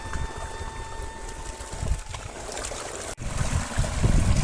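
Liquid jeevamrutham, a natural-farming preparation, runs along a channel to banana plants outdoors as a continuous trickling, gurgling flow mixed with wind rumble, getting louder toward the end.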